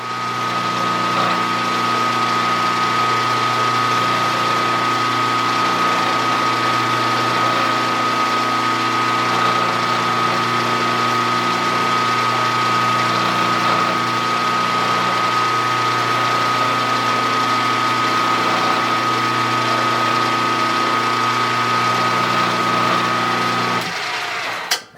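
A metal lathe runs at a steady high-pitched whine while center drilling a part for a small steam engine. The machine hum stays constant and close for the whole stretch, then cuts off abruptly near the end.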